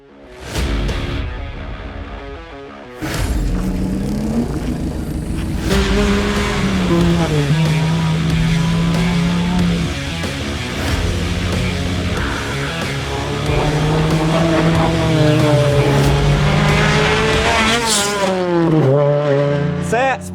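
A Mazda MX-5 racing car engine revs hard and shifts through gears on a track, with tire noise and rising, falling pitch as it accelerates.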